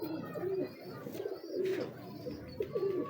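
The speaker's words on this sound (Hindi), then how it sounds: "बड़ा ही यार पाकड़ कबूतर है" Pigeons cooing in repeated low, throaty bursts close by, with faint chirps and background noise.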